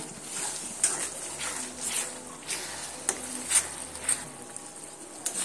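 Green chillies, cumin and chilli powder fry in a pan for a rohu fish curry, a soft close sizzle with repeated scraping and clinking from stirring, uneven and fairly quiet with no talk.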